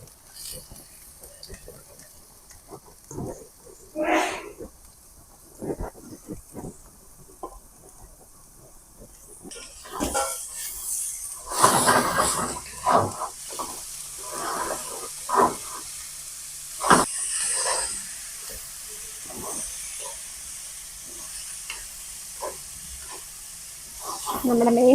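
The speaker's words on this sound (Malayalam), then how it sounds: "ഇനി നമുക്ക് ഇതേ പപ്പായ ഇട്ട് കൊടുക്കാം." Pieces of raw papaya go into a hot pan for a Kerala curry, giving a sudden loud hiss and sizzle that carries on as the mixture fries, with intermittent stirring clatter and a few softer knocks beforehand.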